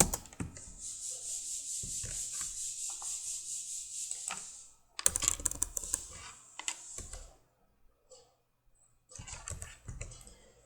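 Rapid clattering keystrokes on a computer keyboard while code is typed, dense bursts with brief pauses between them, close and fairly loud with no one talking.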